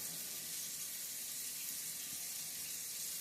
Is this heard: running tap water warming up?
yes